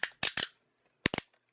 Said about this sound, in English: we got a very nicely tight clicking joint.